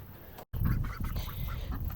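Ducks in a small makeshift pen give a few close, rough quacks over about two seconds, with a brief dropout near the start and no speech.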